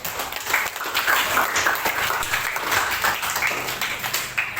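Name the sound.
class applauding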